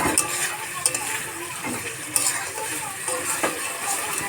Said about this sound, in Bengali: মাংসটা সিদ্ধ হয়ে গেছে, এবার ভালো করে নাড়াচাড়া দেবো।